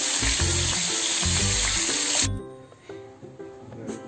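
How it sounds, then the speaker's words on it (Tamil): Marinated chicken fries in hot oil with a loud, dense sizzle for about two seconds that then quickly fades to a quieter crackle. "மேரினேட் பண்ண சிக்கனை வந்து இப்போ ஆயில் ஊற்றி ஃப்ரை பண்ணிடணும்"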